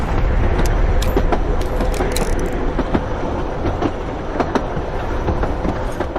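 A moving train in a video game rumbles steadily at close range, with rhythmic clickety-clack from the wheels and occasional metallic clanks over a loud, constant low roar.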